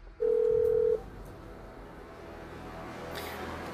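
A single steady ringback tone sounds once on a phone line, about a second long, followed by quiet line hiss with no answer.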